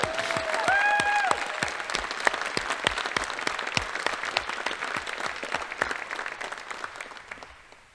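At an academic awards ceremony, an audience applauds a team of academic all-stars, a dense burst of clapping over a brief tone that gradually thins and fades toward the end.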